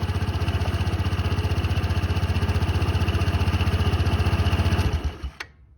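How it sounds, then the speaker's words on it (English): A Honda SH150i scooter engine idles with a steady, loud, rapid pulsing drone, then is switched off near the end, leaving a brief fading whine and clatter as it winds down. "So let me turn it off and you also hear the whine again."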